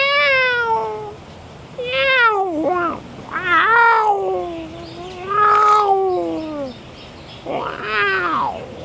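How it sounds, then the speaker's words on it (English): A cat meows repeatedly and insistently up close, a series of long drawn-out wailing calls rising and falling in pitch, loud against a quiet room with no talking. "A cat say meow"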